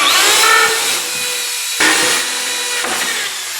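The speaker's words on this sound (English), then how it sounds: "I got a 7/8 Forstner bit, and I'm going to drill all the way through" Power drill turning a 7/8-inch Forstner bit all the way through a piece of wood, loud whining cut with two brief pauses and restarts as the bit bites and grinds.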